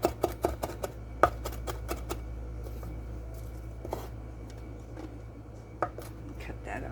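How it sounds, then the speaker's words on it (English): A knife finely minces ingredients for Moroccan red snapper on a cutting board, giving quick, light taps in a fast cluster at first, then sparser soft chops over a low steady background hum. "I'm just going to mince these up really fine"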